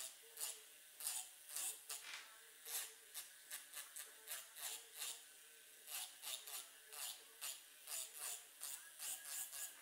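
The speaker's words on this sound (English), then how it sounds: "Then you wanna go in with your file" A nail file rasps back and forth across a fingernail in quick, even strokes, a dry scratchy rhythm repeating steadily up close with no talking.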